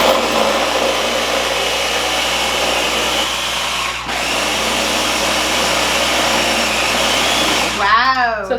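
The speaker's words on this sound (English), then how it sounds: "So see, it's blending like this" A blender whirs loudly and steadily while blending nice cream, with a brief dip in the middle as the load shifts, then stops at the end followed by a short voice.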